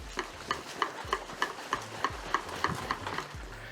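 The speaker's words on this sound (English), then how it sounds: "So I'm going to stir it like this." Wine must with floating oak chips is stirred in a fermenter for a Chile Merlot kit, with steady rhythmic swishing and clicking strokes about three per second, close and moderately loud, with no talking.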